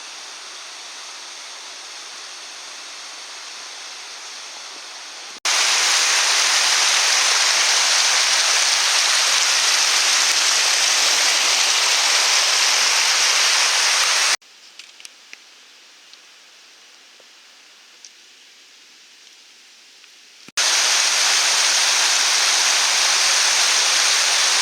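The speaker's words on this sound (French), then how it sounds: "il y a quand même beaucoup d'eau, de petites cascades qui coulent" Mountain streams and small waterfalls on a hike below a glacier pour as a loud, steady broadband rush, dropping to a quieter trickle in the middle stretch before the full roar returns.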